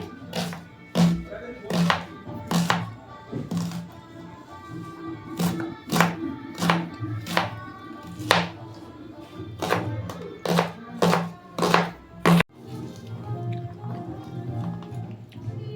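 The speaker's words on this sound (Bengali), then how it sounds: "পেঁয়াজগুলো কুচি কুচি করে কেটে নিচ্ছি" A knife chops onions finely on a board in bursts of sharp, close taps, with pauses between runs and someone speaking intermittently in the kitchen.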